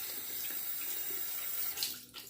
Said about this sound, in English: I'll set the brush aside and try to rinse my hand off.